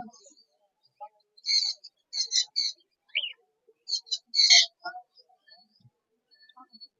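Java sparrows in a bird shop, sparse bright chirps and short tweeting bursts in clusters, close and fairly quiet with gaps of near silence between calls.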